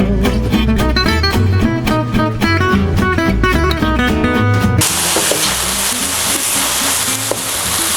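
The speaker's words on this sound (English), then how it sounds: "Let's add 300 grams of paella rice because we're making 3 portions." Music plays for several seconds, then cuts to a loud, steady sizzle as 300 grams of paella rice hits a hot pan of beef and chicken paella ingredients. No one speaks.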